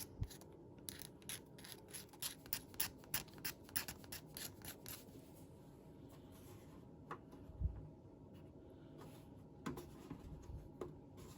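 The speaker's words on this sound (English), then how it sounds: "I'm going to use this X-Acto knife, just scrape some out of the middle of it" An X-Acto knife scrapes material out of the middle of a small part during a Mac 512Ke restoration: quiet, close, dry scratchy strokes in a quick irregular run, then sparser scrapes with pauses.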